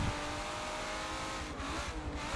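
A Nissan GT-R race car in Forza 7 drones on steadily under braking into a corner, its engine note continuous and close with faint shifting pitch and a brief dip as it slows.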